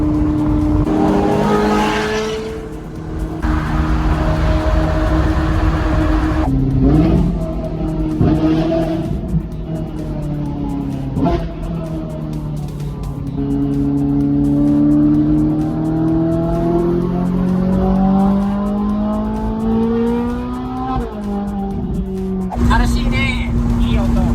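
A Ferrari F430 engine revs and drones, its pitch rising and falling through several loud sweeps, close by, with short pauses between.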